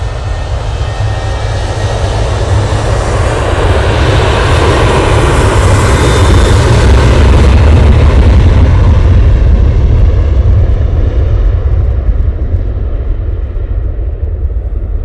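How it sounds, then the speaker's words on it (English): A Ryanair jet climbs away on takeoff from Manchester Airport, its loud, steady engine roar filling the air for the whole stretch and swelling toward the middle before easing slightly. "This is Ryanair going off to Rabat."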